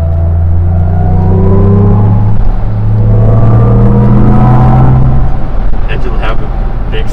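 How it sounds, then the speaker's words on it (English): Mercedes EQC electric car in S mode accelerating with its synthetic drive sound, a steady, close hum of layered tones that rise and shift in pitch as it speeds up, with no pause. "go to the S mode, yeah, you get a switch, switching sound, and the sound becomes much more agile"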